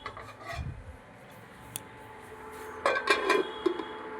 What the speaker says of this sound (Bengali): এবার আমি কড়াইটাকে ঢেকে দেবো।